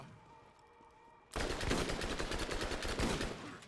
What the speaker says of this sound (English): I love my shotgun, and you go dead right now.